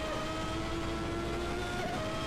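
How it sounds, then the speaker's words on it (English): A 1991 Ferrari Formula 1 car races at Monza toward the Ascari chicane, its engine a continuous buzzing roar with a tone that shifts as it downshifts, set against steady track noise. "The flame bursts out of the back of the Ferrari as Wilkes downshifts"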